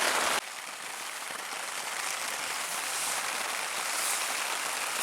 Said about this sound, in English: Thunderstorm number 3 on the evening is just rolling through.